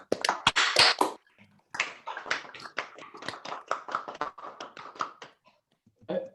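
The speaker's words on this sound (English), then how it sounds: "I think we should give them all a round of applause." Scattered clapping from several people over unmuted phone lines in an online meeting, arriving in bursts with short gaps and heard thinly through the call audio.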